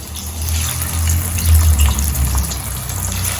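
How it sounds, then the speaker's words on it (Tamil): Baby potatoes drop into a pan of hot oil and set off a loud, continuous, close sizzle and bubbling that holds steady throughout. "இப்போ இதில் இந்த உருளைக்கிழங்க எண்ணெயில் போட்டு எடுத்துடலாம்"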